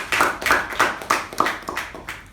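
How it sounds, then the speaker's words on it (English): Applause for the role takers at an online meeting: a short run of about eight sharp, evenly spaced claps, close and fairly loud, with no talking. "Can we have a huge round of applause for the role takers?"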